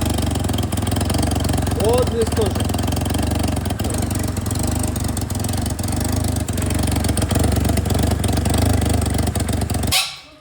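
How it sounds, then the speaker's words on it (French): A car with an exhaust problem, on a long Paris-to-Tokyo road trip, runs with a steady loud droning engine note that holds throughout and cuts off abruptly at the end, with a brief spoken exclamation. "la voiture fait encore plus de bruit bizarre"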